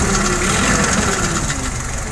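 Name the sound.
Mitsubishi FGE20 petrol forklift engine running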